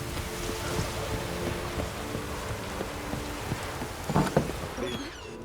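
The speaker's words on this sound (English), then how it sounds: "Raining fucking buckets." Heavy rain in The Witcher 3: Wild Hunt pours steadily in a constant hiss, with a couple of brief louder knocks near the end.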